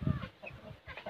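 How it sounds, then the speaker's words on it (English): An aseel rooster clucks among hens and bantams, several short soft clucks close by in a fairly quiet farmyard. "He is my friendliest rooster ever for me."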